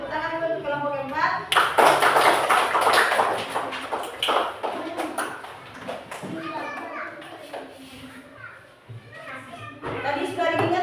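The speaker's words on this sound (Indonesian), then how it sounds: "tepuk tangan dulu untuk kelompok 4" Classroom of children clapping for a student group after a teacher's call, a loud burst of applause with kids' chatter and voices mixed in, fading into scattered talk.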